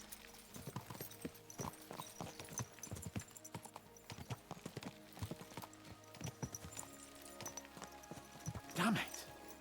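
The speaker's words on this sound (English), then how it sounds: "Let's really spur these horses on, eh?" Rhythmic clip-clop of horse hooves in the video game Kingdom Come: Deliverance II trots along steadily at a moderate, quiet level, ending with a brief louder snort or whinny.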